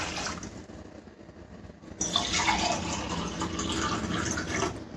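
Water poured into a cooking pot on the stove for rice flour dough, a broad steady splashing stream that starts abruptly partway through and runs on loud and close, alone without talk.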